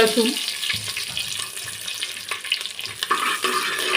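Garam masala hitting hot ghee and oil in a pan, a close, crackling sizzle with bursts of spattering and stirring scrapes that keeps going steadily.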